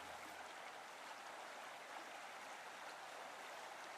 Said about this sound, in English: The river rushes underneath us